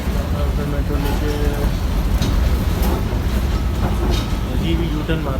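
An older Kolkata metro train runs with a steady low rumble and faint rhythmic rail clatter inside the carriage, and voices murmur underneath throughout.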